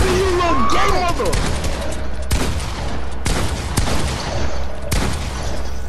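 Bursts of Fortnite gunfire during a Zone Wars match, sharp repeated shots cracking every second or so over steady game noise, with a voice talking briefly near the start.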